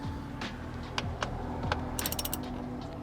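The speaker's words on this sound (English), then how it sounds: "Next things are to unscrew these back two screws here." A ratchet wrench clicking as it unscrews the rocker cover bolts on a Mazda Miata MX-5 engine, close and fairly loud, with a few metallic taps and a quick burst of rapid ratcheting near the end.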